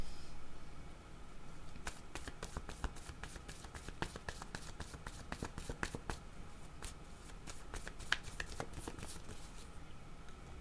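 Tarot cards are shuffled by hand in a quiet room, a long run of rapid crisp riffling flicks and soft taps at close range, with no voice over them.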